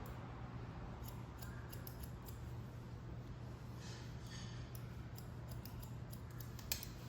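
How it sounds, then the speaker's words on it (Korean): Barber's scissors snip steadily through hair during a side-section haircut for thin top volume, a quiet continuous run of small crisp cuts over a low salon hum with no talking. "가위 넣고 받쳐주고 자르고"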